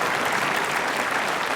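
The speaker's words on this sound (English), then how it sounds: "Would you give this guy a round of applause?" An audience breaks into a round of applause, steady dense clapping at full volume from start to finish with no voices on top.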